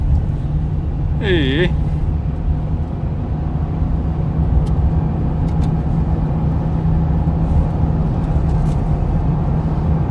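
Steady loud engine drone and road noise from a Toyota Veloz car accelerating hard on the road, heard from inside the cabin, with a brief voice near the start.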